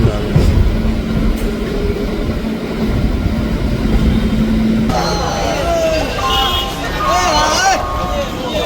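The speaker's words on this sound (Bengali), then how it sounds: "আমাদের সুপার লোকাল জাস্ট হাওড়া ছেড়ে এখন বেরোচ্ছে" A Howrah–Bardhaman super local train pulling out of Howrah station, old ICF coaches with a steady rumble and rail noise, metallic squeals rising midway, a voice talking over it.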